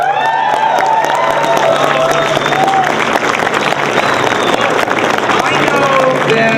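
Sustained applause and cheering from a crowd at a Washington State Commission ethnic legislative reception, loud and steady throughout, with faint whistling tones like microphone feedback running through it.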